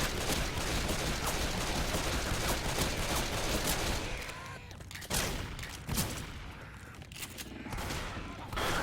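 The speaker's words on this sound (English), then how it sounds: "He's shooting to the floor." Gunfire in a Left 4 Dead 2 competitive match, dense continuous bursts of shots filling the first half, then thinning to scattered volleys, loud and busy.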